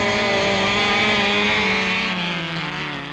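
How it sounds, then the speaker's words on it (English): A Hillman Imp rally car at a 1970s autocross start line gives a loud, close, sustained engine howl with strong harmonic tones whose pitch sags slightly near the end. "The flag drops and Lambert rockets the imp into orbit"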